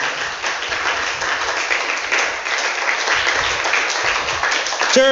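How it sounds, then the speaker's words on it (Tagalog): Church congregation applauding together during a worship service, a steady dense wash of clapping from many hands that holds evenly throughout, with a brief sung or spoken tone rising at the very end. "Muli palakpakan po natin ang ating Panginoon."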